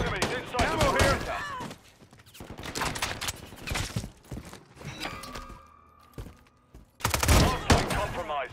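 Gunfire in a Call of Duty hardpoint match, with bursts of shots and impacts mixed with game voice callouts, loud and close, pausing briefly before another heavy volley near the end.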